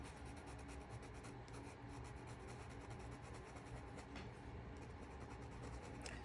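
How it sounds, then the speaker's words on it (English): Colored pencil pressed firmly onto paper in small circling strokes while shading a female cardinal's feathers, giving a steady, close scratchy rasp with faint brief ticks, no talking. "And this is pressing that color into the paper"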